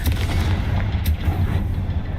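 A Confringo blasting spell in the video game Hogwarts Legacy lands as a loud, dense burst of booming impacts over a rumbling low background.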